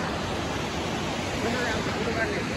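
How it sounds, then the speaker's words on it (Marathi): A waterfall at Harihar fort rushes as a dense, unbroken roar of falling water, moderately loud and steady throughout, with no other clear sounds. "काय वॉटरफॉल आहे, नेचरचा असा करिश्मा आहे"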